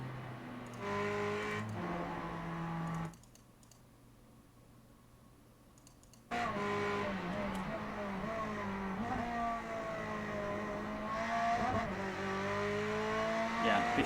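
Ferrari GT3 race car engine in a racing game, a loud buzzing whine climbing through the gears and bouncing off the rev limiter, with a quiet lull midway before the engine roars back and holds at high revs.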